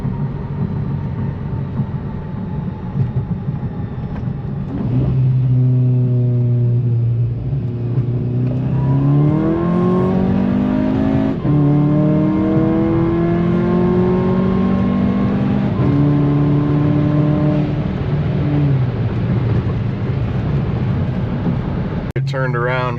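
A lowered MK6 Jetta GLI fitted with APR coil packs drives off, its engine note rising and falling through gears as it accelerates, loud and close from inside the car, with a voice talking over it throughout.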